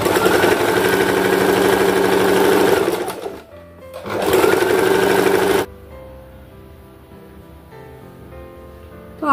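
A sewing machine stitches scraps of fabric together for a homemade doormat, running in two loud, rapid, steady bursts with a short pause between them, then stopping to a quieter room.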